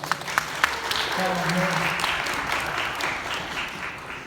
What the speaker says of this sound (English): And a nice round of applause for it